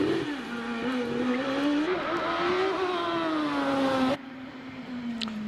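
A Force PC hillclimb race car with a 2-litre forced-induction engine runs past on the course, its engine note rising and falling steadily before cutting off abruptly, loud and close.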